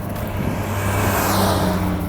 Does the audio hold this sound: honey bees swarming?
no